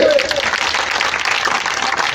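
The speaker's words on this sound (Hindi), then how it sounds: "जोरदार तालियों से" A crowd at an RLP public rally in Nechhwa, Sikar district, claps and cheers loudly, a close, busy roar of applause with voices mixed in.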